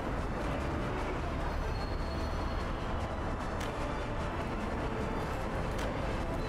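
A train rolling past in the city-building game Workers & Resources: Soviet Republic, a steady, dense rumble that holds at an even level from start to finish, with no talking.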